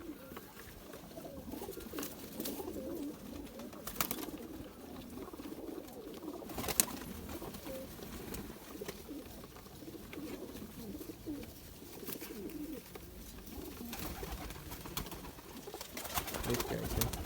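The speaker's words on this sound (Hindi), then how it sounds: "ये जी ज़ीरो में एक और मेल कबूतर है।" Zeera pigeons, including a male, coo softly and repeatedly in low, throaty bursts, with occasional faint rustles and clicks in the background.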